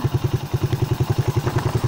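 A stock Suzuki Raider 150 Fi motorcycle idles close by, its fuel-injected single-cylinder engine thumping in a fast, even pulse with light mechanical clatter.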